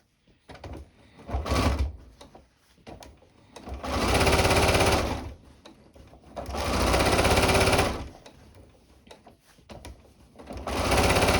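A sewing machine stitches the hem of a sun dress, running in long, loud, steady whirring bursts with short quiet gaps and some handling noise between them.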